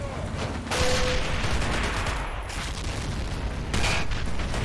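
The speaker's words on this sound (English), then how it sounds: "I'm going to try to hit that tank there." Battle noise in the game Men of War: Assault Squad 2 as shots are fired at an enemy tank, with dense, loud rumbling gunfire and explosions that surge in two heavy bursts over continuous combat din.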